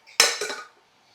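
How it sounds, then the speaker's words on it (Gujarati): Pots, pans and dishes set down in a home kitchen, a sharp metallic clatter followed by a second softer clank, close and fairly loud, with no talk over it. "હાલો વાસણ બધા હવે હું અહીંયા ગોઠવી દઉં."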